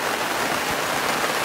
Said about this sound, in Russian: Впервые за 2 недели пошел дождь, такой сильный продолжительный ливень